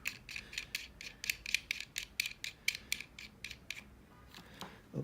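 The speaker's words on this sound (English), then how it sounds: "Just unscrew it" A part of a FirstFiber FF-600AH fiber end-face inspection microscope is unscrewed, making a quick run of small, sharp, evenly spaced clicks up close that slow and stop near the end.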